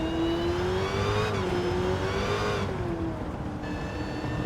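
A Dodge Challenger SRT Demon engine in Gran Turismo 7 at the Nürburgring with traction control off, a loud, sustained whining drone that shifts pitch as the car accelerates and changes gears, with no voices.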